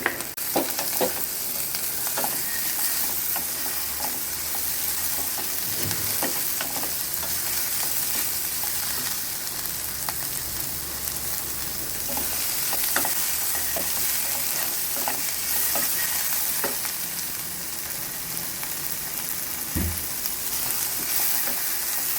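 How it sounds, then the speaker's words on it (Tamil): Vegetables sautéing with softened onions in a pan for a veg stew, a steady close sizzle running throughout with frequent scraping stir strokes and occasional louder clacks of the spoon, no talking. "இப்போ நம்ம வெஜிடபிள்ஸ் அதில் சேர்த்து வதக்கிக்கலாம்."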